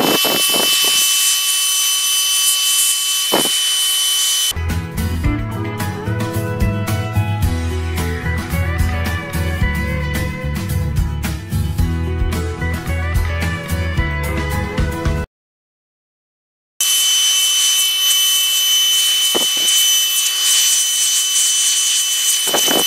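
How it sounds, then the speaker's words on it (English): A Ryobi inflator blasting air onto garden plants to knock off aphids: a loud, continuous rushing hiss lasting about ten seconds, with a steady high background hum before and after and a short silent gap near the end. "So let's get rid of these buggers with our Ryobi Inflator."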